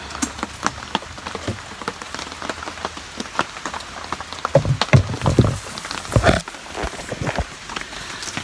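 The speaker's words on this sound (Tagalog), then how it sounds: "Umuulan na." Steady rain patters on surfaces in a mountain setting, a dense close hiss with scattered louder drops and occasional knocks and rustles throughout.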